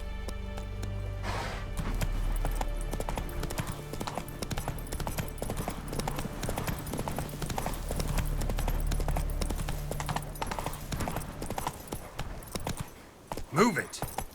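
Roach the horse gallops through The Witcher 3 in a steady rapid clip-clop of hooves, carried under a low drone of game music with a sharp whinny near the end, while a voice urges the horse on.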